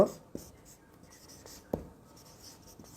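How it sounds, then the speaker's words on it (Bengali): A formula for the area of a rectangle being written on a classroom board during a class 5 math lesson: close, soft scratchy strokes with a few sharper taps as the writing tool meets the surface. "এখন আমরা আয়তক্ষেত্রের ক্ষেত্রফল নির্ণয়ের সূত্রটি বোর্ডে লিখি।"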